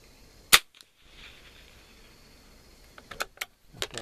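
Pistol shots at a shooting range: one sharp loud report early, then after a quiet stretch a rapid cluster of several close shots near the end, with faint range ambience in between.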